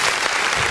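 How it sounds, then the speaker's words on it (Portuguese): A church congregation at a family worship service claps loudly and densely, a thick close wash of applause filling the whole brief moment with no speech. "Vamos aplaudir o nome do nosso Deus"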